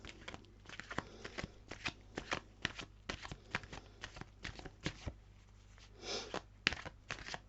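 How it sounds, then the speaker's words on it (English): Tarot cards being shuffled by hand, a run of crisp riffling bursts in quick irregular succession, close and clear, with a brief soft rustle near the end and no speech. "Give it another shuffle."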